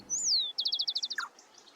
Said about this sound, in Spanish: Son aves tímidas que suelen esconderse entre las ramas densas de arbustos y árboles